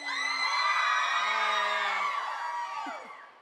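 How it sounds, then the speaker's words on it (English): A live crowd at a radio station event whoops, yells and cheers loudly for a few seconds, with shrill individual screams standing out before the noise fades. "they're just cheering for whatever you say"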